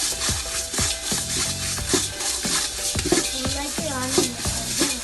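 Coriander seeds roasting in a pan for Malabar-style coriander powder, with a busy stream of crackles and scraping stirs throughout, close and fairly loud.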